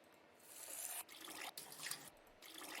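Water trickles steadily with a soft, hissing flow, broken by a couple of brief pauses, and no voices.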